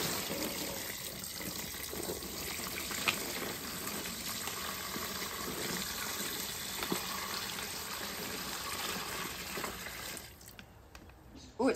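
Turkey brine pouring steadily into a bag, a continuous splashing gurgle that runs for several seconds before tapering off, close and fairly quiet.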